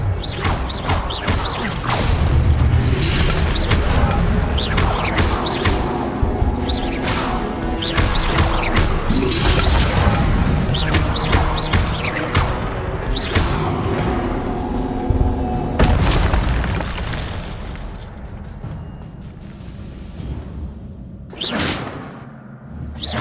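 Spell combat in Hogwarts Legacy, with the Incendio fire spell and Protego shield cast in rapid succession: repeated whooshes, crackling blasts, crashes and thuds, loud and busy, fading toward a quieter end with a final burst.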